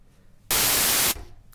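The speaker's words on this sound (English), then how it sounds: "The difference is white noise is the entire frequency range." A loud burst of harsh, hissing white noise from a synthesizer noise generator lasts under a second, starting and stopping abruptly against a quiet background.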